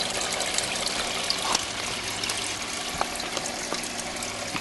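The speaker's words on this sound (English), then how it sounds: "Pump I'm using is a little, it's like a 150 gallon per hour" A small Harbor Freight 150 gallon-per-hour pump circulates water in a budget aquaponics setup, giving a steady close trickle and splash with faint droplets over a constant wash, no talking.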